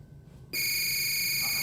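After a half-second of quiet, a loud electronic workout timer buzzer sounds suddenly and holds steady to the end, a harsh sustained tone.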